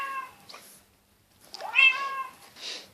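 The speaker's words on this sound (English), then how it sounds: "Frustrated meow." A frustrated cat gives two close, drawn-out meows separated by a brief silence, the second one louder and more strained.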